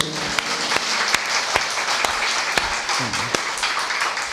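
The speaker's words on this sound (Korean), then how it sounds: "하나님께 영광의 박수" Congregation in a church service clapping together in praise, a steady dense applause with sharp, irregular louder claps standing out across the whole stretch.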